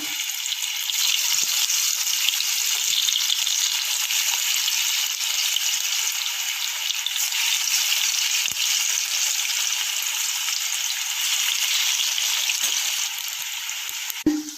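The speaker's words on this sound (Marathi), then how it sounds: "आता तेल गरम झाले मी बारीक गॅस करून हे सोडतीये वड्या" Cabbage vadi slices fry in hot oil over a low flame, giving a steady, even sizzle that stays close and constant with a brief clatter at the end and no talking.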